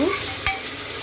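A spoon stirs onions and chillies frying in a pan, with one brief scrape over a quiet, steady sizzle.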